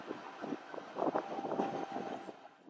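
A cogwheel train climbs the mountain toward Montserrat monastery with a low, continuous mechanical rumble and faint rhythmic clatter, mixed with wind noise, heard from on board at a moderate level.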